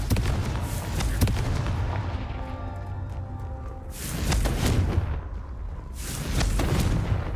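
Confringo explosive spells cast repeatedly in the Hogwarts Legacy video game, producing several booming blasts with crackling tails that rise and fade in waves.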